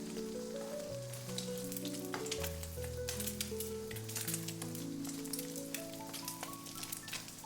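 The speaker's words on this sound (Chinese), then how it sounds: "把雞蛋翻過來煎另外一面，我們要把2面都煎至金黃" An egg fries in a pan, a bright continuous sizzle and crackle of hot oil with scattered sharp pops, close and steady; a low tonal melody plays softly underneath throughout.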